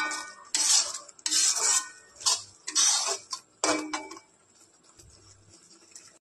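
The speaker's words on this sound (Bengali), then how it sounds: "পুঁই শাকটা যেহেতু কাঁচা, এই জন্য একটু নাড়াচাড়া করে নিচ্ছি ভর্তার মতো করে" Raw Malabar spinach being stirred and mashed in a bowl, a series of bright metallic scrapes and clinks of a utensil in uneven bursts, then quieter at the end, no talk.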